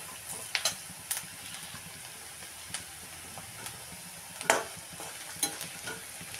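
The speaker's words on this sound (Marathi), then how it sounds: "नंतर ते चांगलंसं परतून घ्यायचं।" Food sautéing with salt in a pan, a steady sizzling hiss under repeated spatula scrapes and clacks, close and moderately loud, with no talking.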